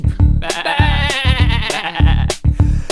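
Repeated sheep bleats, loud and close, with several wavering calls in quick succession and short gaps between them, heard alone without talk.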